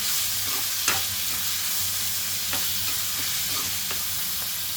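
Curry leaves are stirred into onions frying for a chana dal onion curry, giving a continuous loud sizzle with a few sharp spoon clacks against the pan and no voices.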